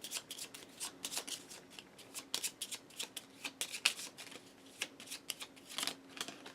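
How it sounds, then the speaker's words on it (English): Playing cards for the board game Gaia Project being shuffled nearby, a run of quick crisp riffling bursts and soft slaps in an uneven rhythm, with no one speaking. "shuffle those up"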